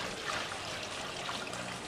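Water pours steadily from a small tank back into an aquarium tub, a continuous close trickle and splash that runs without a break and with no voices.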